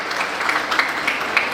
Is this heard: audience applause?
yes